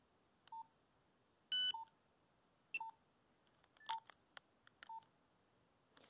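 A series of short electronic keypad beeps from a Nokia 3310 mobile phone, about six separate tones spaced irregularly over several seconds, clear and close with quiet gaps between.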